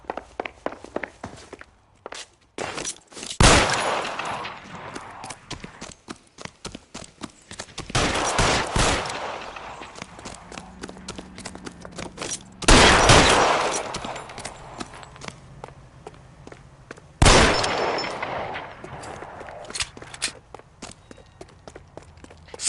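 Gunfire in the crime video game L.A. Noire: four loud, sharp shot bursts spaced a few seconds apart, each with a fading tail, over a backdrop of footsteps and scattered clicks and movement.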